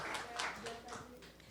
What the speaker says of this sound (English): clap for saving humanity and joy